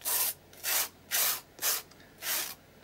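Wet paint scraped across a mixed media art journal page, five rough rasping strokes in a steady rhythm, close and moderately loud with quiet gaps between each pass.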